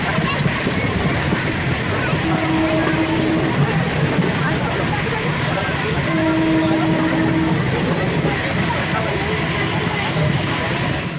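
Steady rumble and rattle from inside a moving, crowded train on the Bengali New Year, with a constant roar throughout and faint voices murmuring in the carriage.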